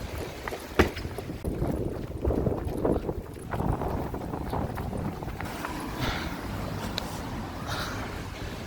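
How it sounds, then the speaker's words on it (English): Gusty wind blowing outdoors near Paddington main line station in London, a steady broadband rush with buffeting against the microphone throughout, no speech. "It's quite windy out here."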